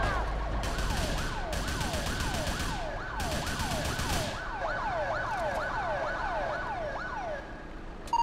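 A wailing ambulance siren in GTA IV multiplayer, rapid repeating swoops with bursts of harsher yelp tones, loud and close over vehicle rumble, fading slightly toward the end.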